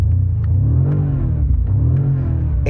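A 2025 BMW M5 with an electrified bi-turbo V8 rumbles loud and close, its deep exhaust burble pulsing unevenly with a few light crackles.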